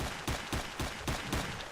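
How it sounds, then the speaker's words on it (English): Gunfire in the video game S.T.A.L.K.E.R., a rapid burst of about six evenly spaced shots, fairly close and loud, with no voices over it. "I hear gunfire"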